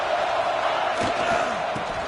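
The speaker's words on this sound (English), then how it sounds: "listen to this crowd noise. This stadium is vibrating." Roaring stadium crowd at a college football game, a dense continuous wall of noise close and loud, with a few louder shouts rising briefly over it.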